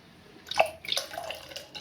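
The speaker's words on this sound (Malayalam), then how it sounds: "ഇനി ഇത് കുറച്ച് വെള്ളം ഒഴിച്ചു കൊടുക്കാം കേട്ടോ." Water poured into a tamarind mixture for puli inji, a few short, close splashes and trickles over a quiet background.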